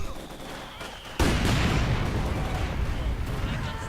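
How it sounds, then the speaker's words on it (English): Heavy mortar fire and grenade blasts rumble through a video game infantry battle, a sudden loud burst followed by continuous dense explosions and gunfire rolling on without pause. "we are now going to see an infantry assault going on there under heavy mortar fire from both sides"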